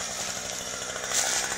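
A chainsaw cutting limbs off a tree whines steadily at close range, its high buzzing engine note holding as it cuts, with no talking.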